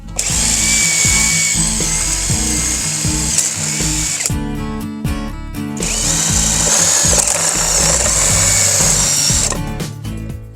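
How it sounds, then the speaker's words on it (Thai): A power drill bores holes through a box, loud and close, its high whine rising and falling across two long bursts with a brief pause between, accompanied by ratcheting mechanical clatter. "ตอนนี้ผมก็เจาะกล่องเป็นรูนะครับผม"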